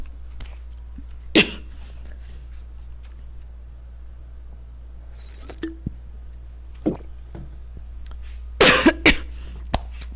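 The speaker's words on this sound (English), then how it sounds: "Wait, coughing." A person coughs in a few separate harsh bursts, a single one early and a louder cluster near the end, over a steady low electrical hum in a quiet room.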